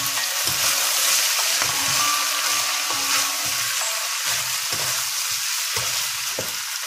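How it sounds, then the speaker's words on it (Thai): Vegetables with onion and tomato sizzle hard in a hot pan as dark soy sauce goes in, a steady loud frying hiss broken by regular scraping stirs of the spatula, no talking. "ซีอิ๊วดำค่ะใส่ลงไป เราก็ผัดค่ะ"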